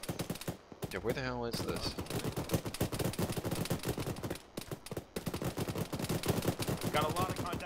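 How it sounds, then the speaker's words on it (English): Rapid gunfire in the military shooter ArmA, dense bursts of shots crackling continuously, some close and sharp, others distant, with someone speaking briefly over the shooting. "I just have no idea where any of these shots are coming from."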